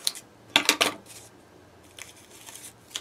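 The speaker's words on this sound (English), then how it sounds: "you just take your scissors and you just cut that extra off." Scissors snip off stray hot-glue strings on a homemade hair clip, a cluster of quick, close metallic clicks followed by a few lighter snips.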